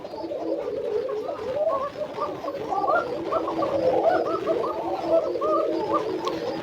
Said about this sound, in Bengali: এটা চিকন ডাকের কবুতর বাচ্চা থাকার কারণে একটু আসলে সমস্যা হচ্ছে ডাকাডাকি করতে